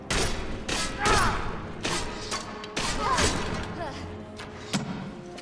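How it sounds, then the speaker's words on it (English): Shooting strikes during a Skyrim fight, a run of heavy thuds and impacts at irregular intervals over a busy, dense background, with a voice talking through part of it. "Whoa, who's shooting us now?"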